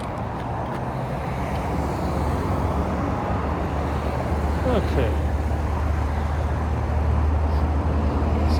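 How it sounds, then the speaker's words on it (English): Steady roadway traffic rumbles past in an outdoor area with wild gumbo limbo and jatropha plants, a continuous low drone of cars and heavier vehicles, with a brief spoken word near the end. "Surprising amount of traffic."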